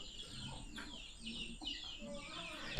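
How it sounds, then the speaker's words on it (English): Hens cluck and chirp around wooden village houses in Seluku, Wokha, Nagaland, several birds calling in short repeated bursts at middle distance, fairly faint, with a little background noise. "A lot of hens"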